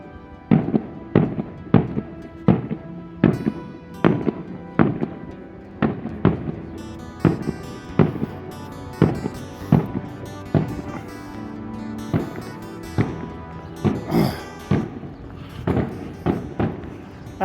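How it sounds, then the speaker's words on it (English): Firecrackers or fireworks bang out on a Sunday as a walker enters a new city along the Camino Inglés toward Santiago de Compostela, a steady run of sharp, loud reports roughly every second, some doubled, echoing for about seventeen seconds. "I think it's the traditional 21 gun salute for me entering to a new city"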